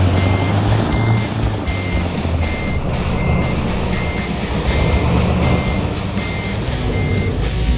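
Reversing beeps from a truck in American Truck Simulator sound in a steady repeating pattern over a loud, constant diesel engine rumble, with no talking.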